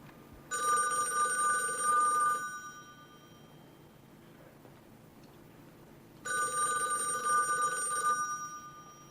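A telephone rings indoors in two long bursts of bright electric bell trilling, each about two seconds, separated by a quiet pause.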